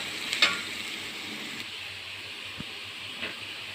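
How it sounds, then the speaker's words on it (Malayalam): Onions sautéing in a pan, a soft continuous sizzle with a couple of brief stirring clinks and scrapes near the start and later, heard alone. "സവോള ഒന്ന് വാടട്ടെ."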